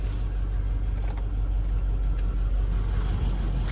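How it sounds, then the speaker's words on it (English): Land Rover Range Rover P38 idling with a steady, even exhaust note, no misfire or lope, a continuous low rumble heard up close with no talk over it. "You can hear pretty good exhaust note, no misfiring, no lopiness, no hesitation."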